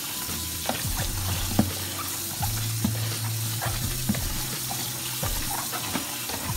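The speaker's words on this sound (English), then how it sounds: "you're gonna wanna add some water" Cold water sizzles in a hot pan while snails are stirred and scraped, a steady hiss with intermittent clinks and soft knocks.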